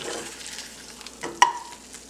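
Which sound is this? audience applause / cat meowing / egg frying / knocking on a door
egg frying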